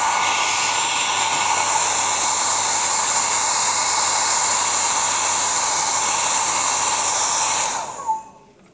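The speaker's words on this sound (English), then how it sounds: "quick blast with a hairdryer" A hairdryer blowing in a steady, loud, close rush of air for nearly eight seconds, drying a light mist coat on a decorative finish, then cutting off with a small knock as it is set down.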